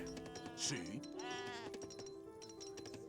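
A sheep bleats once in a short wavering call in the video game Age of Empires 3, over tonal background music and sound effects, fairly quiet.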